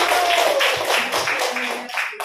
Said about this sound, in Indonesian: Sekali lagi kita beri tepukan untuk kita semua